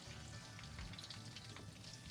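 Bammy fries in hot coconut oil in a pot, a faint, steady crackling sizzle with tiny pops, heard alone and quietly.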